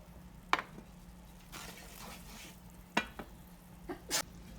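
Gravy base cooking in a pan gives a quiet, steady sizzle, broken by a few sharp scrapes and clinks of a utensil stirring it, some close and bright.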